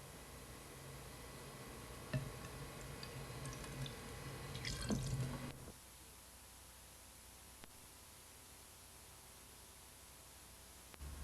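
Liquid is poured into a glass in a brief, quiet stream that builds for a few seconds and cuts off abruptly, leaving faint background hiss.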